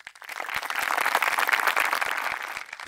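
Audience applause at a Frente de Todos political rally presenting 2021 election candidates: a dense, steady crowd clapping that swells and holds for a few seconds, fairly close and loud, with no talk over it.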